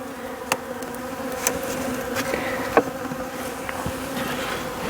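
Honeybees pour out of a smoked hive at an apiary, making a dense, steady buzzing drone close by. Individual bees zip past now and then, and no one speaks.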